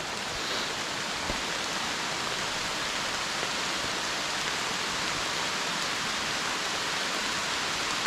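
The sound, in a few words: rain falling while camping in the backcountry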